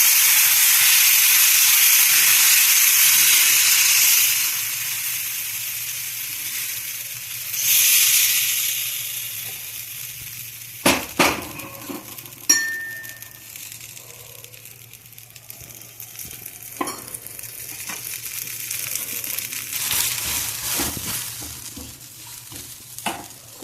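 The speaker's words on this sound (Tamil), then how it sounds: "அடுப்பில் கல் போட்டுக்க ஒரு தோசை குத்தி காமிக்கிறேன்." Adai dosa batter hitting a hot griddle, a loud hissing sizzle at first that dies down over time, followed by scattered sharp knocks and scrapes from a spatula.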